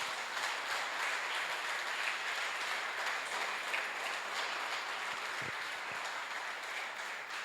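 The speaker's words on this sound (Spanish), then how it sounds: "¿Cuántos le pueden dar un fuerte aplauso a Dios en esta hora?" Sustained applause from a church congregation during a Spanish-language worship service, a dense steady wash of clapping filling the room at an even level throughout.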